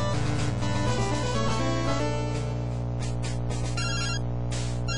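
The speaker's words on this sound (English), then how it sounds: "Oh, a phone call!" A chiptune phone ringtone trills in repeated electronic bursts over game music in Pokemon Crystal, loud and steady.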